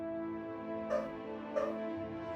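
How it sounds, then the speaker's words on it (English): Two short dog barks sound a little apart over a steady humming background, somewhat distant and muffled. "Sorry about the barking."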